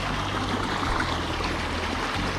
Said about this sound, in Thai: บรรยากาศแบบเสียงน้ำ